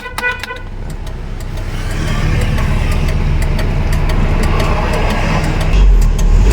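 A 1992 Toyota Kijang G with its engine running, a steady close rumble that grows louder and holds, with a few quick horn toots at the start.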